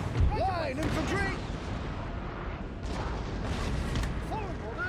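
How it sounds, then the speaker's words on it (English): Cannon and artillery fire in the Napoleon: Total War strategy game, with distant booms and whistling shots rolling over a dense battle din and shouted soldier voices. "Artillery! 9-pounder ready!"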